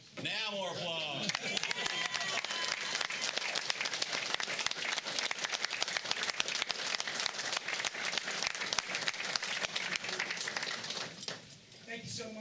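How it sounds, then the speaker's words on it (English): Sustained audience applause fills a city commission meeting room in Leesburg, Florida, steady and dense for about eleven seconds, with a brief trailing voice near the end. "Now more applause."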